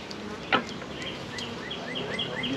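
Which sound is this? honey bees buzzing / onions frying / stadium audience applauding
honey bees buzzing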